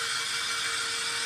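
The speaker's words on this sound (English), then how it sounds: "I'm going to use my handy dandy blow dryer." A small handheld craft blow dryer runs close and steady, blowing air over wet ink with a constant bright hissing whir and a faint motor hum underneath.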